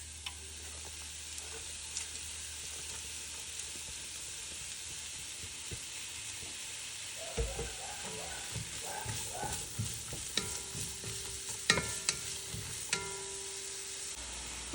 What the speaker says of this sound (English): we are gonna go in and add our onion and celery